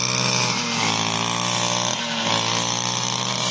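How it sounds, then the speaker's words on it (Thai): A motorized cutting tool trims the tops of sweet bamboo plants, a loud, steady, close buzzing whine that bogs down twice as it bites into the stalks. "นี่ครับเป็น บรรยากาศการตัดยอดเป็นบางส่วนนะครับ"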